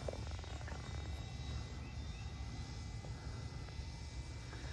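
A Freewing F22 Ultra Performance RC jet with an 8S 90mm ducted fan passes overhead on a go-around, a steady, moderately distant rushing roar that holds evenly throughout.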